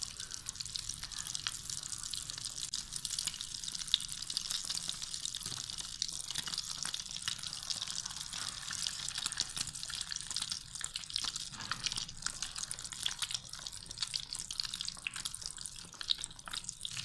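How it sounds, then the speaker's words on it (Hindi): Egg-dipped potato and mayonnaise kebabs fry in hot oil with a steady, dense hiss and fine crackle, close and continuous throughout with no talk. "उसे अंडे में डिप करके फ्राई कर लेंगे"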